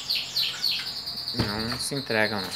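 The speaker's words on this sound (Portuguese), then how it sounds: "Os passarinhos hoje estão bem atacados, apesar de estar frio aqui, estão cantando" Small birds chirp and sing outdoors on a cold day, bright repeated tweets fairly close and lively throughout, with a voice speaking partway through.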